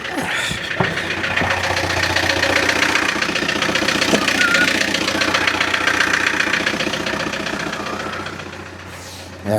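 A sailboat's inboard engine motoring into harbor, a steady mid-pitched idle with a fast knocking pulse, heard close and muffled, holding even for nearly ten seconds before tapering slightly.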